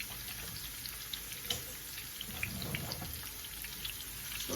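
Onions frying on medium heat for haleem give off a faint, soft sizzle with small crackles and pops, steady and quiet throughout.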